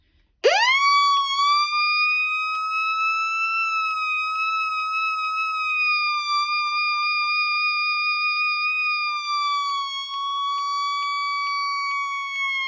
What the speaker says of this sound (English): And then here we go, siren test.